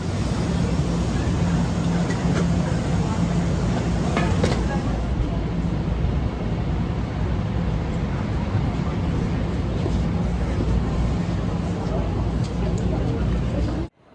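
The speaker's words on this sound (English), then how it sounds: "our train arrives on time into Grand Central Terminal" A Metro-North Harlem Line train rumbles into Grand Central Terminal with a continuous loud low roar and rolling hum that holds steady, then cuts off abruptly at the end.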